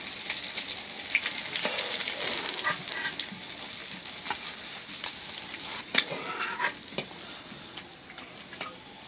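Hilsa fish fries for a long time in a pan on low heat, giving a constant bright sizzle with occasional stirring and spatter pops, close and steady throughout, with no talking.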